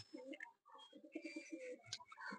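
Fantail pigeons kept on a rooftop coo softly at close range, with short repeated bursts and a few brief chirps. The sound is faint and stands alone, without talk.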